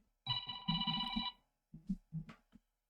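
A telephone bell rings in a burst followed by two shorter rings, loud and close, with nothing else heard.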